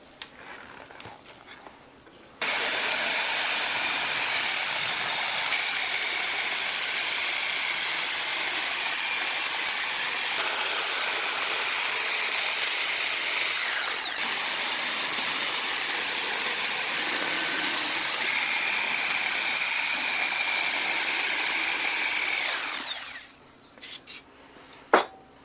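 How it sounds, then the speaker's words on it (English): Sawzall reciprocating saw cutting through a vintage tire on a '55 Plymouth, a loud steady buzzing roar running unbroken for about twenty seconds before stopping, with brief knocks at the end. "The hole is so I can get the Sawzall in"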